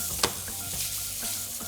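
Onions sizzle steadily in a hot pan alongside steak, a close, continuous hiss and crackle with one sharp clink of a utensil early on, no talking.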